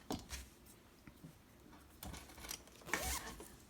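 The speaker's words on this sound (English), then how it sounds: "Zip it up," Zipper being pulled shut on a small bag of sewing supplies, a few short scratchy zipping strokes and rustles, with one longer, louder closing pull near the end, close and quiet.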